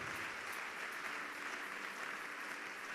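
A church congregation in Kinshasa applauds together, with a dense, steady wash of clapping that fills the full three seconds at an even, sustained level.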